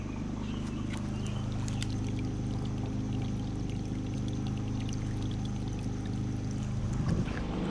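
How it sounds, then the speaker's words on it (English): Off-grid washing machine draining water outdoors, a steady gushing pour with low rumble running continuously and fairly quiet. "Now I go ahead and put it on drain."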